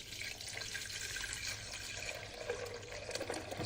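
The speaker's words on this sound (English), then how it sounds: "Now you're gonna pour the water in." Water poured steadily into a container, a continuous close splashing wash of liquid that holds at an even level throughout with no voices.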